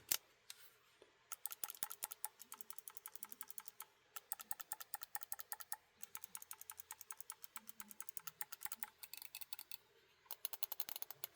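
Back switches on a Mojhon Rainbow 3 game controller, sharp clicky presses in quick irregular bursts, close and crisp with brief pauses between runs.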